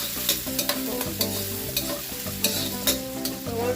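Vegetables frying on a stove over high heat, a dense continuous sizzle with quick, repeated stirring scrapes every half second or so, close and with no talking.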